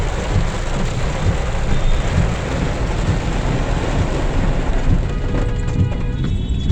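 Steady, dense rain pours down continuously, a broad hiss with low rumbling underneath and no voices.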